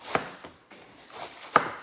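A knife chops through cabbage against the grain on a board, a few separate crisp cuts spaced irregularly, close and fairly quiet.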